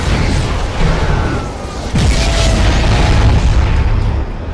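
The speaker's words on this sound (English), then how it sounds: "Oh yay, bombs." Bomb explosions in the video game Crysis boom loudly, with a deep burst near the two-second mark followed by a sustained rumbling roar over dense battle noise.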